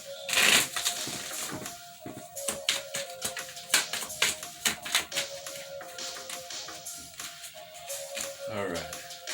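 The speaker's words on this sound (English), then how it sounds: "2 more shuffles." Tarot cards being shuffled by hand, a series of quick papery riffles and soft taps in irregular bursts, close up, with a voice speaking over them.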